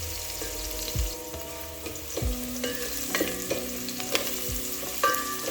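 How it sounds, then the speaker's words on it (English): Chopped ingredients sautéing in a pan for a lentil stew, a soft steady sizzle broken by scraping stirs and clinks of a utensil against the pan. "I'm going to saute this, and once they start turning translucent, I'll be back to add in my next ingredients."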